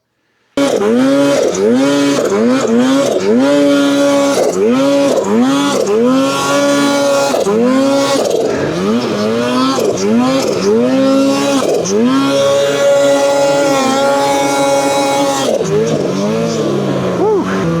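A boosted snowmobile fitted with a 3D Logik Ribkage intake revs loudly and close by, its engine pitch rising and falling in repeated sharp revs, with brief breaks between bursts.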